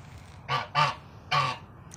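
A pet goose-like bird honks three times in quick succession, loud and close, with a low background hum and no talking.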